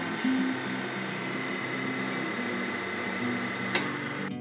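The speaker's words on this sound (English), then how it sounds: "This lathe is a lot quieter." A combined Harbor Freight and Shopsmith lathe runs quietly with a steady mechanical hum and soft periodic ticking. A brief sharp click is heard near the end.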